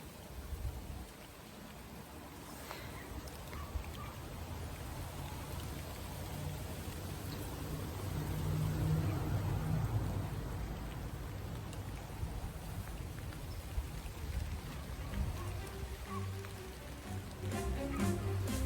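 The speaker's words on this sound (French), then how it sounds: "Alors par contre il commence à pleuvoir." Steady light rain patters over a continuous broadband hiss, fairly soft and even throughout, with no voices.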